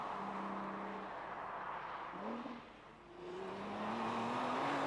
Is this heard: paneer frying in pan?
no